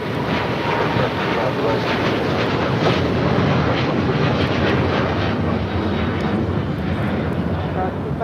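Cathay Pacific flight 885 takes off from LAX bound for Hong Kong, a loud, sustained jet engine roar filling the whole span, with people talking underneath.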